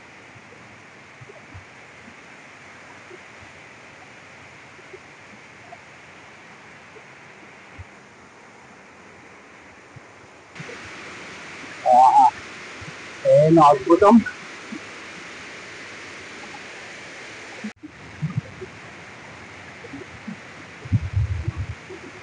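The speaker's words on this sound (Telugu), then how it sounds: "ఇదిగోండి పద్మ వాటర్ ఫాల్ పైనుంచి పడుతుంది చూడండి" Padma waterfall on the Odisha–Andhra border, heard as a steady broadband rush of falling water that grows louder midway, with people talking over it.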